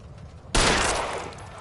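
Gunfire in the video game L.A. Noire erupts suddenly as a loud, dense burst of shots that rings on and decays slowly, following a quiet stretch with no talk.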